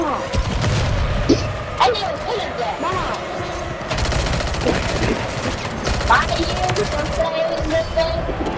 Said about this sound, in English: It's a DNA bomb.